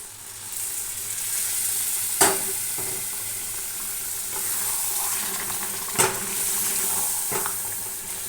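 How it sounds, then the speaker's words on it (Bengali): Sautéed mutton in a pot sizzling loudly as gravy goes in, a continuous hiss and bubbling with two sharp clanks of a spoon against the pot. "মাটনটা কিন্তু আমি ভালো করে কষিয়ে নিয়েছি এবার একটু ঝোল দিয়ে দিই"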